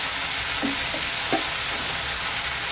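Cauliflower and spices stirred in a hot frying pan: a steady, even sizzle throughout with a few soft scraping strokes of the spoon against the pan, close and alone.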